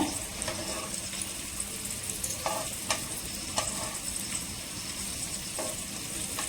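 Meat cooking in ghee for a Sunday curry feast, stirred in the pan: steady loud sizzle and crackle with repeated scraping stirs at an irregular rhythm, close up, no talking.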